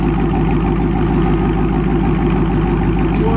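A 2021 Dodge Charger Scat Pack with its mid mufflers deleted, idling loud and close with a deep, steady rumble and no break across the few seconds.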